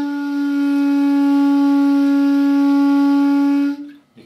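One sustained clarinet note with a buzzy, fuzzy edge, held steadily and fairly loud for almost four seconds before cutting off; the mouthpiece is set too far out.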